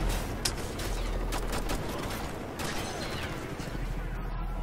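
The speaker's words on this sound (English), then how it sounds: "Who the hell's shooting me?" Gunfire in the shooter game Ghost Recon: Future Soldier, a steady rattle of rapid shots and mechanical clatter running without a break, with no clear talk over it.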